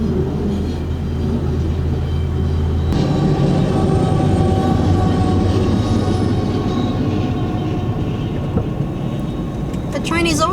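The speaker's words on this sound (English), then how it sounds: "It's just a train." A train rumbles past close by, a loud steady roar of wheels and rail noise lasting throughout, with a brief higher squeal near the end.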